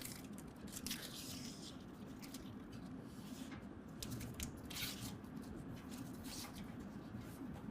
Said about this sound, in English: peel away some of the adhesive protectant